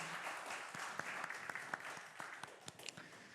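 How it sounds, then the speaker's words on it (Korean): Applause from a church congregation during a Sunday worship service, a steady wash of many hands clapping at moderate distance with scattered sharper individual claps, no voices over it. "우리 하나님 앞에 영광의 박수 올려드립시다."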